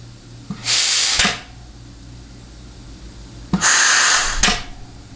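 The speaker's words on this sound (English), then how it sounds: "the air you are hearing is coming out of the back of the nozzle." Compressed air at about 50 PSI escapes from the back of an air nozzle during an air check on a 700R4 transmission case. There are two loud, close hissing bursts of roughly half a second each, separated by quiet.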